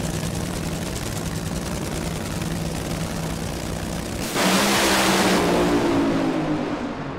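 Top-fuel style drag racing cars, Toyotas and a Chevrolet, roar down the strip in a loud continuous engine blare that grows even louder and harsher midway as a car passes close, with no talking.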